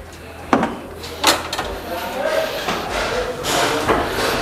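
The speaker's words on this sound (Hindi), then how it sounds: "और इसी तरह ये दरवाज़ा भी खोल के चेक करेंगे अभी।" A Toyota FJ-70 car door being opened and checked in a body and paint workshop, a few loud clunks and latch knocks spread across the clip amid workshop noise, with someone talking throughout.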